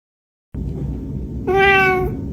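A single clear, drawn-out cat meow rises over a background of room hum, close and fairly loud, lasting about half a second.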